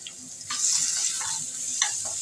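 Crushed garlic added to hot oil tempered with black cumin and dried chillies, a steady bright sizzle with a few soft knocks of a utensil, close and continuous.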